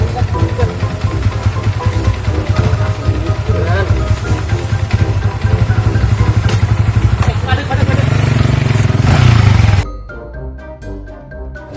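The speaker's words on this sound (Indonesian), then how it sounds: "motor anyar iki" A new motorcycle engine runs loud and close, a rough revving rumble with clattering mechanical noise that swells before cutting off abruptly, followed by quieter sound, while people talk over it.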